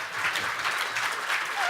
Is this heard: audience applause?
yes